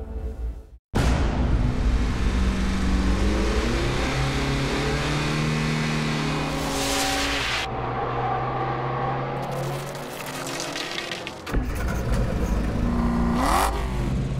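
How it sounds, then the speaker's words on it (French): Vintage racing car engines roar and rev on a circuit during an FHR-Cup historic race, rising and falling in pitch as cars speed past one after another, loud and close with a brief sharp cut near the start. "Des bruits de moteur et des bolides sur un circuit."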